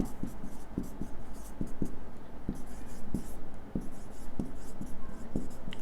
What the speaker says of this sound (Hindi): एक छोटा सा नोट डाल के लिखिए